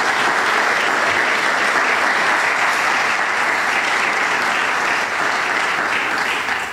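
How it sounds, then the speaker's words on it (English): A large seminar audience applauds continuously, a dense, even wash of many hands clapping at once, loud and sustained throughout without letting up. "I would like to ask you for a round of applause for Ms."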